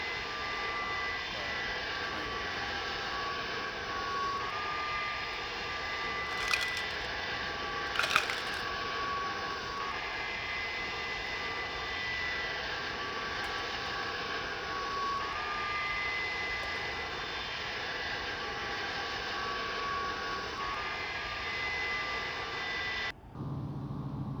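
Steady, continuous jet engine drone from an MD-82 airliner in the X-Plane 11 flight simulator, an even broadband roar with a faint tonal whine, a couple of brief clicks, and a sudden change right at the end.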